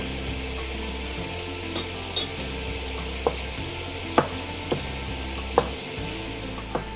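Ingredients melting down together in a hot pan for a German-style potato salad, a steady close sizzle broken by occasional sharp clicks and taps of a utensil, with no speech.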